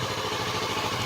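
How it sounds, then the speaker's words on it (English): A Kawasaki Vulcan S 650 motorcycle engine idles steadily, a close, even low thrum with a faint mechanical clatter and no voices. "just the sound of the engine as it stands right now"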